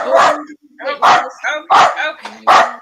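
Dogs bark loudly and repeatedly in a neighbourhood, four strong bursts in quick succession close to the listener, with no talk between them.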